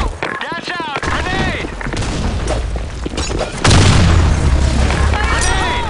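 A grenade detonates in a first-person shooter game, a loud deep boom that rolls into sustained rumbling amid gunfire, with game voices calling out over it.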